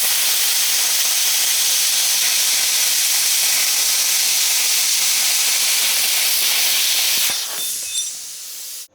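A BestARC BTC500DP plasma cutter cuts 1/8 inch steel with a loud, steady hiss that holds for about seven seconds and then tapers off as the cut ends.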